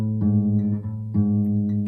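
Acoustic guitar string plucked while out of tune, giving two sustained ringing notes in quick succession, close and clear with no talking.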